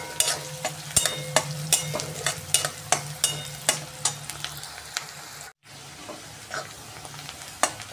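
Onion sizzles in a pan with whole spices, under a run of sharp, rhythmic stirring scrapes and clacks, close and fairly loud, with a brief silent break partway through.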